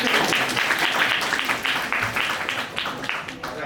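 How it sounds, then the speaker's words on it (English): Applause from a small tech meetup audience, a fairly close burst of many hands that swells and then tapers off over a few seconds. "Okay, round of applause."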